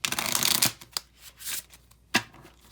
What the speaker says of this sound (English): I'll shuffle it real quick so I make sure I get good numbers.